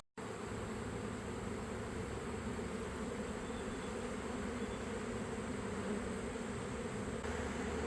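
Honey bees robbing a hive form a dense, continuous buzzing swarm close by, loud and unbroken throughout with no talk.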